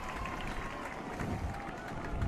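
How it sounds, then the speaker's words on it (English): The home crowd at a Horace Hawks versus Minot North boys varsity high school football game makes a steady, roaring wash of massed voices and cheering, heard from a distance and held at a sustained level. "Horace crowd getting loud."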